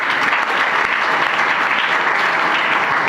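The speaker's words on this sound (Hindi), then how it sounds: "हम इनके लिए तालियां बजाते हैं।" Steady, dense applause from an audience cheering young junior children at a children's class gathering, loud and sustained throughout with no pauses.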